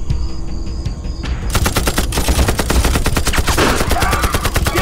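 Rapid machine-gun bursts erupt in a wartime action film, a loud, dense stream of shots that starts abruptly and continues almost unbroken to the end.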